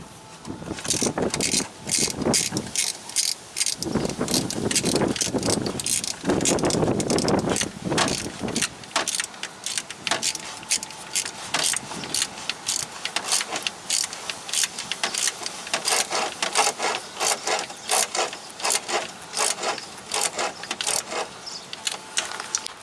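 Ratchet tightening a 10mm bolt on the engine of a Pontiac Vibe with a 1.8L 1ZZ-FE engine, heard as a long run of rapid, close clicking strokes with brief pauses between bursts.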